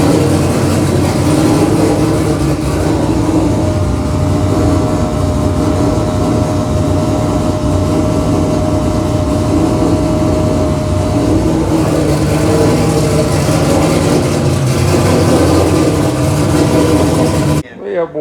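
A 1600hp Mustang engine runs at a loud, steady idle, a dense unbroken rumble that holds for the whole stretch before cutting off abruptly at the very end.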